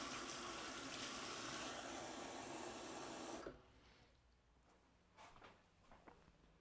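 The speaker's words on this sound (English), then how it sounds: "Combine our dry ingredients and a quarter cup of hot tap water." Hot tap water from a faucet runs in a strong, steady rush for about three and a half seconds, then cuts off, leaving quiet kitchen handling sounds and soft knocks.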